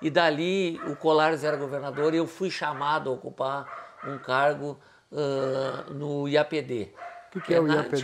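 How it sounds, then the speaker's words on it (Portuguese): A dog barks in the background during a seated interview, its barks mixed under steady, close conversation between men that fills the whole stretch. "Tem um cachorro latindo aqui."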